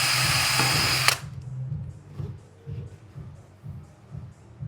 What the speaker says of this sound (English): I just use a 90-degree drill just to start from this side really small